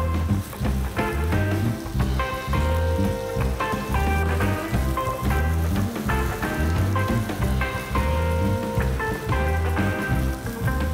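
Vegetables and tomatoes sizzle and crackle steadily in a hot pan for paella, a continuous busy frying hiss heard up close.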